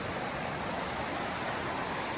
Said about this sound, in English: A lot of river noise here, the water, so it drowns out the highway noise